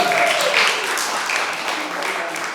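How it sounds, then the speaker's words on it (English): Steady applause from a poetry slam audience, dense clapping that holds at an even level for a few seconds, with faint voices mixed in. "One warm applause for Theodoros Elinas of NONDUAL family."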